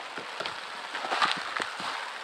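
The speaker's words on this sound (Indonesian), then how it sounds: "Udah hujan nih guys" Rain patters steadily outdoors during a search through discarded used clothing, a dense crackling hiss broken by sharper drop hits, fairly close and continuous.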